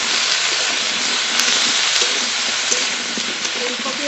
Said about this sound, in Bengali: ফুলকপি একটু নেড়ে নেড়ে ভেজে নেব